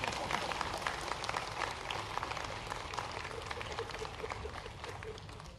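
An audience claps at a public event in Bhopal, a dense, steady round of applause that carries on throughout at moderate distance.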